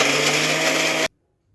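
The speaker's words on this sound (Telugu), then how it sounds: "మిక్సీ పట్టుకోవాలి" A kitchen mixer grinder whirs loudly and steadily as it grinds sesame seeds for chalimidi, then cuts off abruptly into silence.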